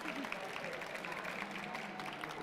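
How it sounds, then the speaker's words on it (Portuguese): An audience at a Petrobras stage talk on artificial intelligence applauds the Libras sign language interpreters, soft and steady clapping heard from a distance. "eu queria muito que vocês batessem as palmas para o pessoal dos intérpretes de Libra"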